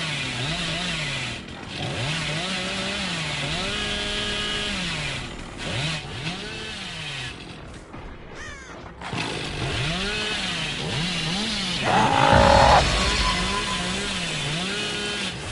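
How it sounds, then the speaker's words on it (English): A video game chainsaw drones and revs in rising and falling waves for the whole stretch, loud and continuous, with a harsher burst near the end. "How would you feel if you heard a chainsaw"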